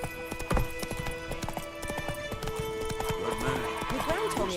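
Roach the horse's hooves clip-clop steadily in The Witcher 3, a close rhythmic trot on the ground under a man's spoken dialogue, with a brief whinny-like snort near the start.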